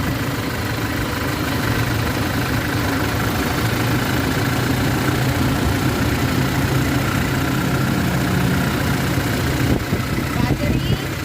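A family van's engine runs at a steady idle, a continuous low rumble heard up close with no break.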